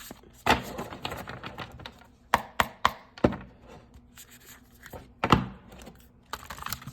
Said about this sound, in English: Don't judge me for my shuffles.